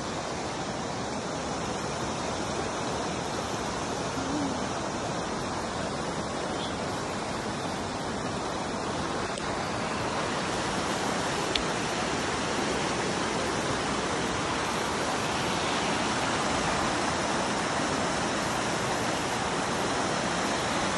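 Strong, steady rush of water pouring at a natural spring, a dense broadband roar that holds even and continuous throughout, with no voices cutting through.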